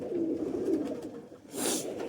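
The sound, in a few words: pigeons cooing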